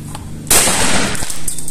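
A Mossberg 930 12-gauge semi-automatic shotgun fires a single loud, sharp blast at a shooting range, with a brief decaying tail and no talk.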